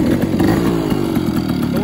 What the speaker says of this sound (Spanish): ¿Cómo suena esa moto?